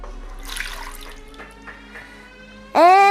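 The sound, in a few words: milk being poured into a pot for mac and cheese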